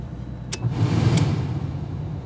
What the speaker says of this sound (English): you could hear the engine slow a little bit. So the compressor's definitely coming on.